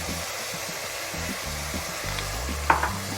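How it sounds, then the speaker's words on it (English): Chopped onions frying with salt in a pan give a steady soft sizzle, with a few sharper crackles and stirring clatters near the end. "the chopped nicely fined onions to it. Let the onion cook faster"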